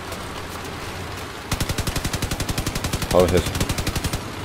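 Vehicle-mounted guns in the combat game Crossout firing a long, evenly spaced automatic burst of loud, close shots after a stretch of low background noise, with a brief voice partway through.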